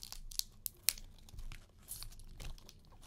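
Crab shells being cracked and pulled apart by hand while eating, with a few sharp crunches and cracks early on, then softer crinkling and tearing, heard up close and fairly quiet.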